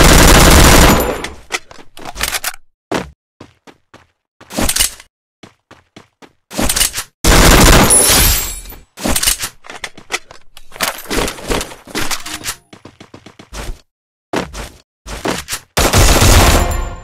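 Loud automatic gunfire from XM8 and P90 rifles in the shooting game Free Fire comes in sharp, rapid bursts separated by brief silences and a few single shots.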